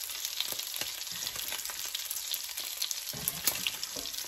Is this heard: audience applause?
no